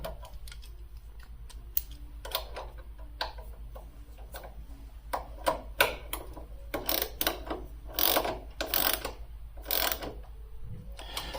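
A ratchet wrench clicks in quick bursts while tightening a nylock nut on the final drive of a BMW R65 motorcycle, with the pawl's sharp ticks coming close and fairly loud and no voices.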